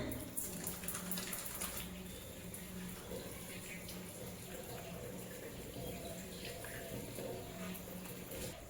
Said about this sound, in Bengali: ফেস ওয়াশ আগে আমি মুখটা ধুয়ে নিই।